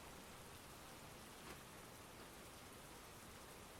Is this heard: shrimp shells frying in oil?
no